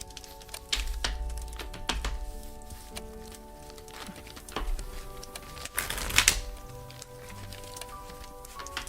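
Playing cards handled up close: scattered taps and clicks, then one brief fluttering riffle shuffle, in a quiet setting.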